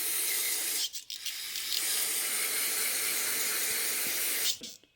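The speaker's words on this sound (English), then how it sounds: "so I'm just going to start spraying it" A steady hissing spray from an aerosol can onto the stripped main body of a 1974 Ford F100 carburetor runs for several seconds, briefly interrupted once, then stops.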